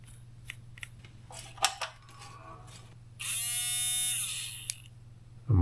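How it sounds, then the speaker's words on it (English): Small electric soft-close door lock motor from a Range Rover L405 whirring under test on a bench, opening with scattered clicks and taps, then a sustained whining run that rises and settles before stopping abruptly. "The motor sounds good."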